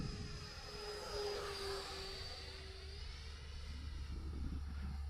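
A small Arrows Marlin 2.0 RC plane on its maiden flight passes by at a distance, its faint electric motor whine sweeping in pitch with a Doppler shift over steady background wind rumble.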